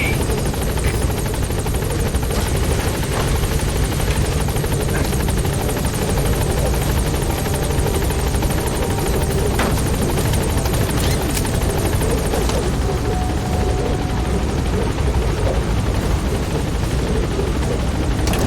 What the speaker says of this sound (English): This is Pequod. On station at LZ.